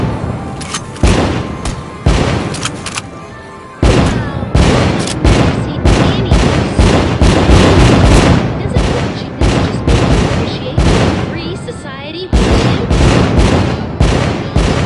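Fireworks go off in The American Dream VR game as a rapid, loud barrage of booming bursts and crackling pops, with only brief pauses between volleys.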